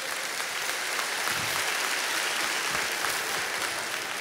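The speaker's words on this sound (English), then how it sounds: "Let's give her a round of applause." Audience at a church sermon event giving a round of applause, dense continuous clapping at full strength throughout, close and loud, with no voice heard over it.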